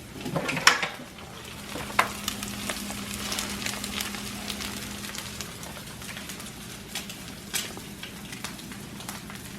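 Eggs frying in a pan for a Spanish breakfast, a steady crackling sizzle with scattered pops and a few clinks of utensil against the pan, close and continuous for about ten seconds, no talk.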